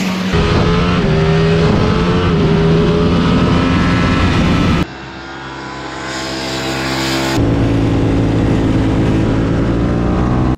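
A 2022 Ducati Panigale V4 S superbike roars loudly on the Jerez race track, its engine rising through high revs with sharp gear changes, dipping briefly before accelerating hard again.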